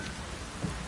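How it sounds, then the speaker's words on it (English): Drizzling rain falls in The Witcher 3, a soft continuous hiss of fine drops that stays steady and even throughout the brief moment, with no voices. "Oh, it's drizzling."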